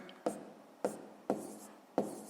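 Close, quiet pen strokes while a division step in a math exercise is written out, four distinct taps at even intervals with light scratching between them.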